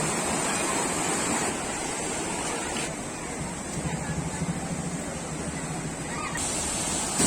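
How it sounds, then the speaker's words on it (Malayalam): Karinkappara waterfall sends a steady, loud broadband rush of falling water that fills the whole stretch without a break, and children and other visitors are gathered nearby. "കരിങ്കപ്പാറ വെള്ളച്ചാട്ടത്താ."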